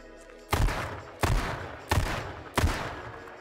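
Four loud gunshots from the battle royale game H1Z1 King of the Kill, fired singly and evenly spaced about two-thirds of a second apart, each with a sharp, booming attack and a short decay.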